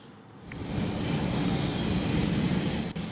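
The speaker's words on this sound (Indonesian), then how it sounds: "Bantuan dikirim menggunakan pesawat Hercules yang dilepas landas dari Bandara Halim Perdana" Hercules military transport aircraft taking off from Halim Perdanakusuma Airport in Jakarta, a loud, steady engine roar with broad rumbling noise that holds constant throughout, no voices.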